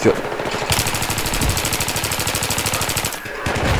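Rapid automatic gunfire rattles in the Battlefield video game, a loud, fast, continuous burst of shots lasting a few seconds with a brief pause near the end.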